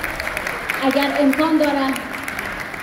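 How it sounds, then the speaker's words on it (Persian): An audience applauds at a celebration in Hamburg honoring an Afghan champion, a steady clapping wash running under someone speaking into a microphone. "لطفا تشویق کنید"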